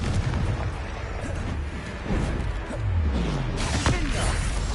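Confringo fire-spell blasts in the video game Hogwarts Legacy, played on PS4: loud rumbling booms and bursts over a dense, continuous battle din, with a few swooping tones and no clear talk.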